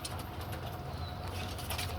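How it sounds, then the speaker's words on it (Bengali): Hobby pigeons kept for sale, including young birds, coo softly and steadily against a constant wash of background noise, with no clear speech. "এই দেখেন আমার শখের বর্ষার কবুতর"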